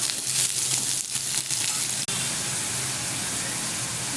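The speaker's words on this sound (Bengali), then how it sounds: "হলুদ দিয়ে কষাচ্ছি।" Potatoes frying in oil with nigella seeds and turmeric give off a steady, dense sizzle from start to finish, with one brief dip partway through.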